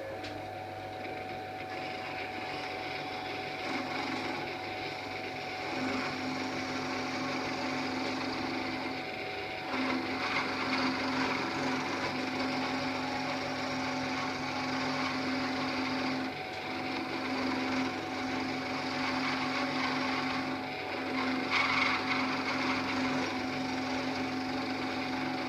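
A carbide milling bit spins in a drill press, cutting a partial knife tang from steel: a steady whining hum with a sustained tone, continuous and fairly close, with small shifts in pitch and load as the bit bites.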